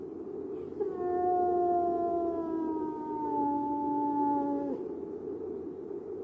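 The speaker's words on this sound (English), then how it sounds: "A dog." A hound howls in a radio drama, one long, steady, wavering cry that sinks slightly in pitch over several seconds, clear and close against a low background hum.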